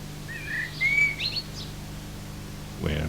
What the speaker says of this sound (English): Where be that old blackbird too?